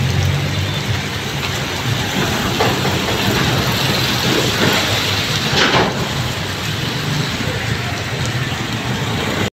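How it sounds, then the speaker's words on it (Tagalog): Heavy rain from Typhoon Carina falling on a Manila street along Ayala Boulevard, a constant loud hiss of drops and splashing with a low rumble beneath, steady throughout. "monitoring pa rin tayo sa nagaganap na bagyo"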